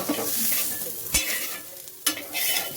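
Onions fry to golden in a pan with a continuous close sizzle, broken by two sharp scrapes of a spoon stirring them.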